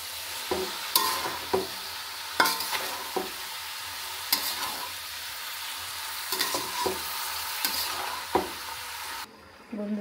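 A spoon stirs food in a frying pan after salt is added, with scraping strokes landing roughly every second over a steady background sizzle that drops away at the very end.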